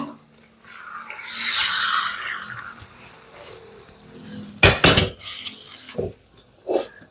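Beef dropped into a pot of wilted aromatics for a Filipino beef caldereta in a small eatery kitchen: clattering metal pot and utensil sounds with sizzling hiss, a few sharp knocks near the end, no talk.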